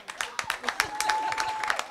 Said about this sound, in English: One big round of applause for the winners, Loving Deep